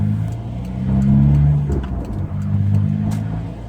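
A 2005 Volkswagen Jetta Wagon TDI, a 100-horsepower diesel, accelerates hard. Its engine drones close and steady, climbing in pitch through a gear, then dips briefly before pulling again.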